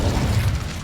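An Incendio fire spell cast in Hogwarts Legacy gives a short, loud, low burst of flame, a quick whooshing pop under a second long with nothing else around it.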